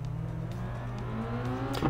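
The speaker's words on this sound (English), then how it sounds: "Don't know about you, but all the cars sound the same." Rally car engine in the Sebastien Loeb Rally Evo video game, a steady droning hum with a low harmonic tone that rises slightly in pitch as revs build, loud and continuous throughout.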